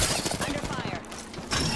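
Automatic gunfire in Apex Legends crackles fast and loud throughout, with short pauses between bursts. A brief voice sounds under the shooting.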